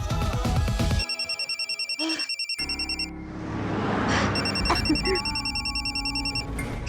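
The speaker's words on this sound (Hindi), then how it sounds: "किसका फोन है?" A telephone ringtone trills in rapid electronic pulses, starting and stopping twice, fairly loud and close against background noise.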